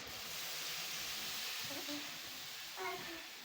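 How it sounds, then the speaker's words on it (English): Beans fry in groundnut oil with a steady, close sizzling hiss that fills the whole short stretch, with a few faint clinks near the end and no speech. "the groundnut oil will first of all fry the beans"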